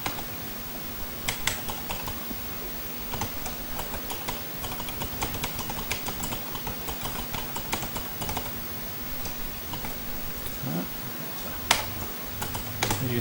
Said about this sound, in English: I can quite happily type away there